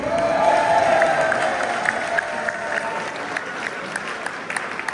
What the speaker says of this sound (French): allez, applaudissez-vous.